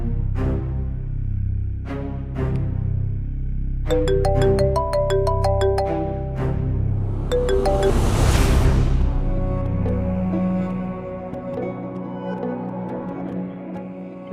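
Phone ringtone in a household scene, a melodic chiming tune playing clearly and loudly, rising in a bright flourish before fading under a softer background tone.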